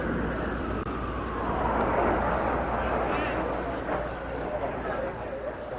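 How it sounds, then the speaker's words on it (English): A military jet passes overhead as a broad, steady roar that swells and fades gently over several seconds, sounding distant, with no voices. "Just the sound of a plane. It's our jets."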